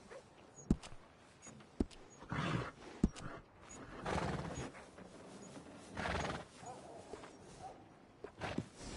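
Horses in the Red Dead Redemption 2 video game: scattered hoof clops and a few sharp knocks, with loud whinnying neighs rising in the middle and again near the end.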